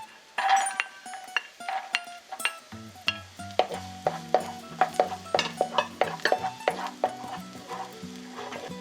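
Green onion and carrot are stir-fried in a hot pan for shrimp fried rice, with a spatula scraping and tapping the pan in a quick rhythm of close, repeated clatters over a soft sizzle.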